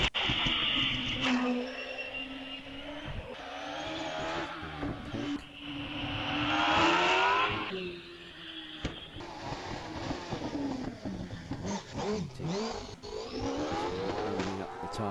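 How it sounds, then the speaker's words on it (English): Hillclimb race car at Wiscombe Park revs hard and repeatedly while warming its tyres, loud rising and falling engine sweeps with possible tyre squeal, close and continuous over several bursts. "Warming up the tyres now as it becomes critical as the leading competitors coming to the line for their last practice run of the day"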